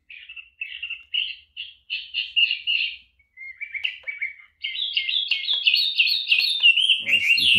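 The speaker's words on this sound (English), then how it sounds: "Nice little bird song to wake you up." A wake-up light alarm clock plays its bird song alarm: clear repeated chirps and tweets in short phrases, then a denser run of warbling calls, crisp and close in an otherwise quiet room.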